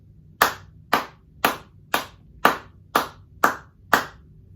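Eight sharp hand claps in a slow, even rhythm, close and clear against a quiet background.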